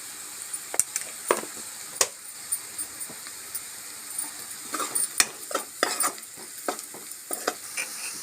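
Aloo and peas chaat gravy fries in a pan while a spoon stirs it now and then, a soft steady sizzle broken by frequent scraping clinks of the utensil against the pan, close and without speech.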